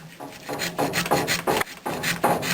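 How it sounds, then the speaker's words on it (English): A sharp razor blade scrapes an old gasket off the rim of a Big Green Egg ceramic grill in repeated rasping strokes, close and fairly loud, each pass a short gritty rub. "we're just going to go around the edge of this and start scraping that old gasket off"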